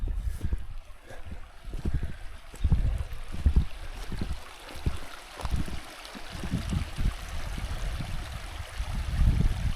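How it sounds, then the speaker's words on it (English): A creek flows into a high mountain lake in the Pecos Wilderness, a soft, uneven trickle and gurgle of water with gusty low rumbles of wind buffeting nearby, no voices. "here's the creek coming in"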